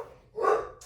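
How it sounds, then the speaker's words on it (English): A single short dog bark, fairly faint and heard indoors on its own without talk. "I don't know why my dog is going wackadoodle."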